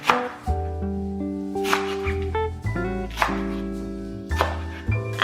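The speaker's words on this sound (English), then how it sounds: "In the meantime, we can cut some chives." A knife chops Chinese chives on a board in a few sharp, separate strokes, set under steady background music.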